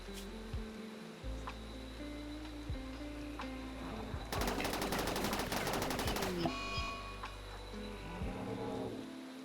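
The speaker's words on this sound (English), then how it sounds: "what are you shooting at?" Rimworld gunfire erupts as a rapid burst of automatic shots lasting about two seconds, then trails into scattered pops and game sound effects, loud and close over a humming background.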